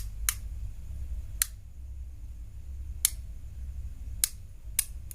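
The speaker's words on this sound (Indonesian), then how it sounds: "Saya akan putar perlahan-lahan arah ke kiri sampai terdengar suara klik yang pertama." A two-door refrigerator's defrost timer is turned slowly by hand, giving five sharp, isolated clicks spaced unevenly over a few seconds against a quiet low hum.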